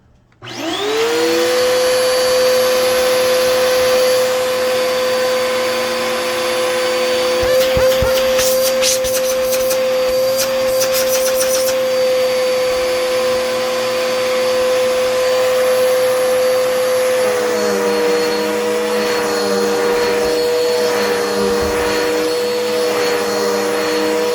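A Bissell 12B1 PowerForce Helix upright vacuum cleaner, just reassembled, switches on and runs with a loud, steady motor whine that shifts in tone partway through.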